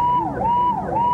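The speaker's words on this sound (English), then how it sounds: "Start your full play out on sirens, please." Fireboat sirens wail loud and close, a steady rising and falling tone that repeats through the short stretch with no talk over it, sounded at a water-spray show for a 1977 television broadcast.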